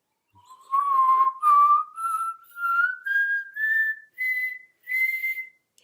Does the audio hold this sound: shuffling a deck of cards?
no